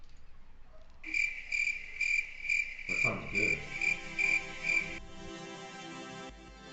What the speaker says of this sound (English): I play the crickets.